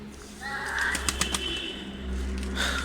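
Ankara pigeons flapping their wings as they get ready to fly, a short burst of several wing claps close by over a steady low hum, with soft cooing in the background.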